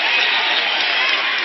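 Arena crowd at a WNBA basketball game between the Aces and the Dream, a steady loud roar of cheering from the stands, filling the whole moment without letup.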